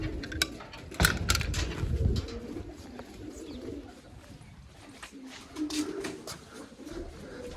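Pigeons cooing in a loft of some forty-five to fifty birds, soft repeated coos with scattered clatter and sharp knocks, mostly without talk and with only faint voices.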